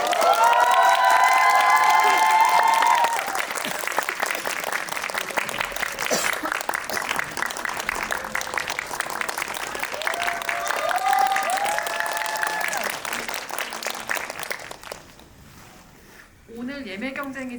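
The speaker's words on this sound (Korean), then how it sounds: "큰 박수로 맞이해주세요" A theatre audience claps and cheers loudly to welcome the cast and director of the Korean film Humint at a guest screening, with music playing over it. The sustained applause gradually thins out toward the end.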